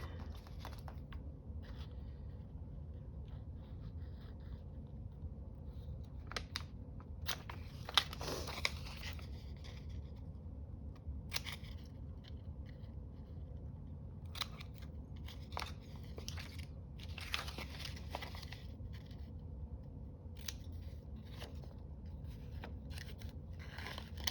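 Scissors snip through craft material in a series of crisp, close cuts scattered over a steady low background hum, with soft crinkling between the snips.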